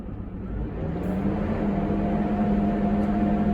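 A steady diesel drone from an 18-liter John Deere engine with no DEF system, running smoothly at idle near 800 RPM, a low continuous hum with a faint steady whine above it and no talking.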